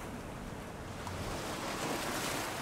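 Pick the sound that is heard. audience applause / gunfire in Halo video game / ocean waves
ocean waves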